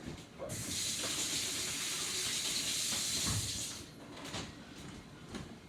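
Water runs steadily from a kitchen tap for about three seconds during handwashing, a hissing rush that cuts off and leaves quieter clatter behind.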